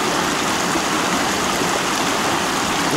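Cold mountain stream water rushes steadily near Zakopane and Nosal mountain, a loud close continuous wash of flowing water with no voices.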